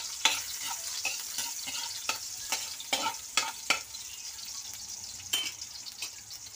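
Chopped garlic frying in hot oil for simple home-style pancit bato: a steady, close sizzle runs throughout, broken by sharp clicks and scrapes of a stirring utensil against the pan.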